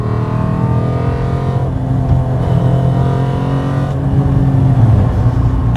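Engine of a Lister Bell STR, a Lancia Stratos replica, revving and accelerating loudly and close, with a strong steady drone that rises through the gears without pause.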